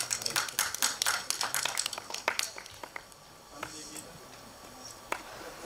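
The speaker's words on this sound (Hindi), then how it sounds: "प्लीज ऑन स्टेज, जोरदार तालियां" An audience at a movie trailer launch event claps as guests come on stage, a burst of dense handclaps for about three seconds that thins to a few scattered claps.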